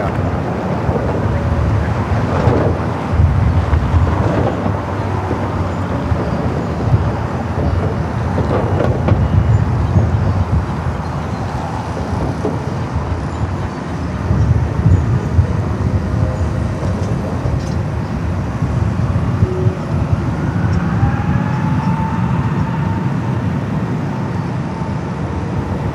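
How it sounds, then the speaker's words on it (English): Steady, loud roar of a Volaris jet airliner taking off from runway 24 left at LAX, a broad rumbling drone holding for the whole stretch with a faint rising whine near the end. "runway 24 left, Super takeoff"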